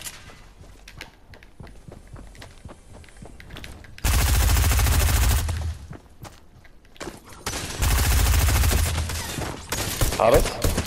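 Gunfire from a blue pistol in the video game Misty Meadows, heard as rapid bursts of shots between about 4 and 6 seconds and again from about 7.5 seconds on. Quieter scattered game sounds and brief clicks fill the stretch before the bursts.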